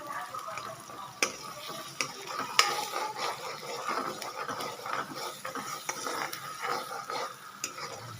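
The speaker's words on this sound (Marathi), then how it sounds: "आता आपण आता छान असं तांबूस रंग येतपर्यंत असं भाजून भाजून घ्यायचं" Ground masala paste being stirred and roasted in a pan for a jackfruit vegetable curry, giving a steady close scrape and sizzle with sharp utensil clicks against the pan.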